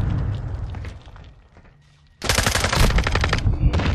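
Rapid automatic gunfire erupts in Call of Duty Modern Warfare II online play, a loud dense burst of shots after a quieter stretch of muffled in-game action.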